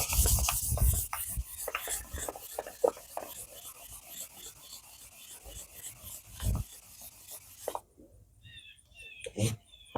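Metal is polished by hand to remove scratches, giving rhythmic rubbing and rasping strokes, close and fairly quiet, that come in uneven bursts and then stop near the end before a few last scrapes.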